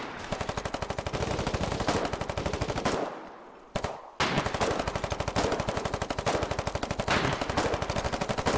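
Sustained bursts of machine gun fire, rapid and loud, with a brief pause partway through before the rattling volley resumes and continues to the end.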